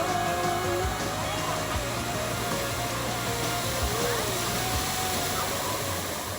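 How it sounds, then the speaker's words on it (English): Rushing water from a waterfall over a resort lazy river, a constant broadband roar that fills the whole stretch at steady loudness, close by, with faint background sounds mixed in. "Gonna head into the waterfall."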